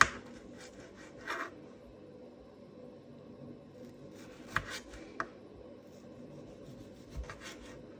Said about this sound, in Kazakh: Қызанақты да жалпақтап үлкенірек етіп тураймыз.